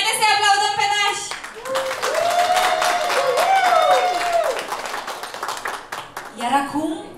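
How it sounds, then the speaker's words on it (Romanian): Wedding guests applaud the godparents at a reception, clapping and cheering rising as an emcee speaks and music plays, with voices singing over the crowd throughout. "Haideți să-i aplaudăm pe nași!"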